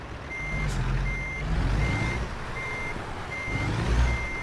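Reversing beeps from a truck in American Truck Simulator repeat at a steady rhythm as the rig backs into a parking spot, with a low engine rumble beneath and no talking.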